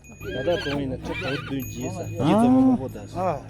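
In Tibet, a horse whinnies in rising and falling calls, loud and close, with a long high neigh near the end and faint clip-clop of hooves beneath.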